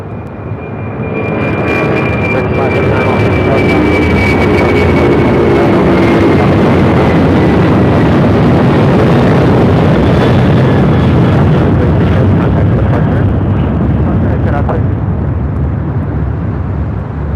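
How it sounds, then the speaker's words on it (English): An Asiana Cargo Boeing 747-400 converted freighter takes off from LAX, its jet engines building from quiet into a loud, sustained roar that holds steady with a high whine on top. "286 taking off to San Francisco on a 747-400 converted freighter"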